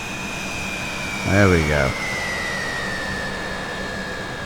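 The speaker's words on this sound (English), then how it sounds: "Take off thrust to get her going here." Vickers VC10 jet engines at take-off thrust in a flight simulator make a steady, sustained whine and roar that holds throughout, while someone speaks briefly over it partway through.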